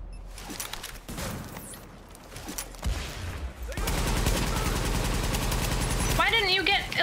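Gunfire in The Division video game rattles out, scattered shots at first and then sustained rapid automatic fire, loud and dense, with combat effects and voices mixed underneath.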